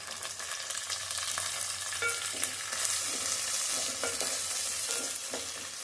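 Curry leaves, coriander and mint frying in hot oil as tempering for a mutton fat rasam, a constant close crackling sizzle with occasional scrapes of stirring, steady and without talking.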